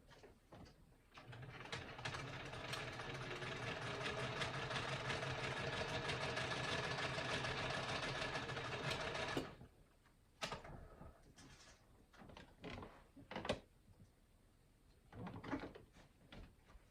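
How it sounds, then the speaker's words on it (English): Sewing machine stitching fabric in a steady mechanical whir lasting about nine seconds, followed by quiet handling clicks and rustles. "I'm going to go sew that"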